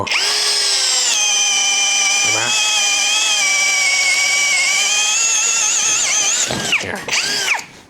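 A TEXUS BULL TX9629 cordless impact drill bores into wood with a loud, sustained whine that briefly dips and resumes, then winds down in uneven bursts at the end, close to the microphone.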